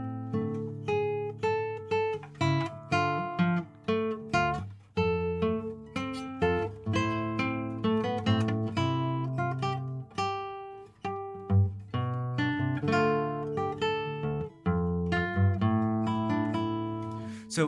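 Lute part for an introduction, with plucked melodic lines in one voice copied by another in imitation, playing continuously and fairly quietly with a steady rhythmic pulse.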